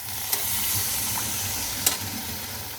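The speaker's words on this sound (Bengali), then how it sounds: "এবার আমি ঝোল দিয়ে দেব" Broth hits a pan of oil-fried potato curry with a steady close sizzle and hiss, broken by a few sharp splashing clicks as the liquid goes in.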